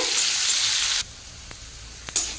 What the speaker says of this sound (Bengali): উচ্ছে দেখুন পুরো মুচমুচে ভাজা হয়ে গেছে